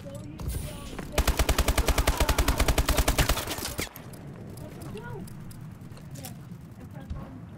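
Rapid automatic gunfire from a weapon in Call of Duty: Advanced Warfare, a loud, evenly spaced burst of about two and a half seconds that cuts off abruptly, followed by quieter game ambience and scattered effects.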